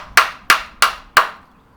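A hammer tapping an insert nut into a drilled pilot hole during bunk bed assembly: four sharp, evenly spaced strikes close by, each decaying quickly, with no talking.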